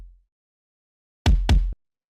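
Two layered kick drums sound together as one electronic drum hit, one live-sounding and one deep and thumping, landing twice in quick succession with a punchy attack and heavy booming low end, loud and alone.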